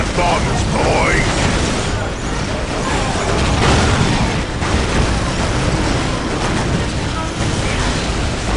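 Dense, continuous battle noise from the Warhammer 40,000 strategy game Dawn of War, with heavy rumbling booms and crackling blasts layered over one another for the whole stretch, loud and unbroken.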